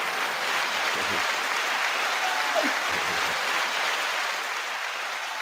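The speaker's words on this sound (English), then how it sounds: "9 second applause to Glasses." Audience applause for a birthday, a dense, even wash of clapping held at steady loudness throughout, with no clear talk.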